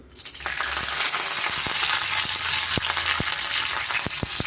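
Fresh, lightly crushed curry leaves fry in hot oil for a chicken side dish, giving a steady, dense sizzle throughout with sharp crackles and pops scattered over it, close and fairly loud.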